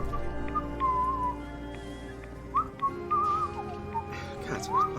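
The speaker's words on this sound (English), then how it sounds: "God, why are you whistling?" A character in Fallout 4's Far Harbor whistles a wandering melody of short, clear phrases with pauses between them, heard over steady game ambience and low background music.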